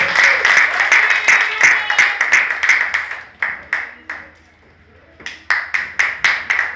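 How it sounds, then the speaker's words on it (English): An audience at a launch event claps in bursts of applause, the clapping dying away briefly before picking up again, with voices mixed in. "Please give her a round of applause."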